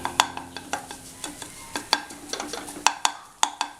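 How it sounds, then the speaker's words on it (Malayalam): Egg and bread burji is stir-fried in a pan, with a spatula scraping and tapping sharply and repeatedly against the metal in an irregular rhythm over a faint sizzle, close and clear with no talking. "ഈ മുട്ട നന്നായിട്ടൊന്ന് ഉലർന്നു വരണം കേട്ടോ."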